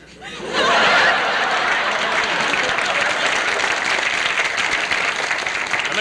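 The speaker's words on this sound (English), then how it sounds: "And the crowd goes wild." A studio audience breaks into sustained applause with scattered chuckles for a juggling act on a late-1960s television comedy show, starting abruptly and holding steady at full strength.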